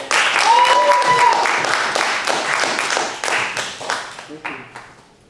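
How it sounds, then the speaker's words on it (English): An audience at a comics convention open mic breaks into dense applause and clapping, with a few cheers mixed in, gradually thinning out toward the end. "Let's give a big round of applause to Tevin!"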